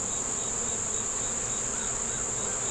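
Honey bees swarming around an opened hive frame, a dense steady buzzing hum close up with no talking.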